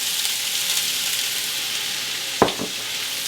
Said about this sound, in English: I have a tablespoon of oil in the pan, getting really, really hot, because I want to brown these